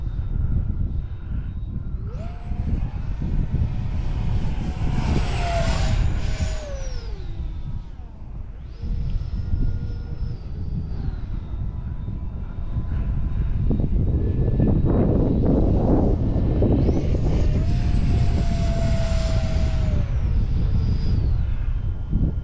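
A 70mm electric ducted fan FF-117V2 RC jet on a 5S battery makes repeated passes overhead, its high whining fan rising and falling in pitch as it approaches and recedes, loud at times under rushing air.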